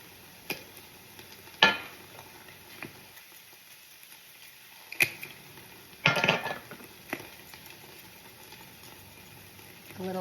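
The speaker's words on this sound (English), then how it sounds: "Keep stirring until it comes together" Spices being stirred into an elk ragu in a pan, with soft scraping and scattered sharp clacks of a utensil against the pan at irregular intervals over a faint sizzle, close and fairly quiet.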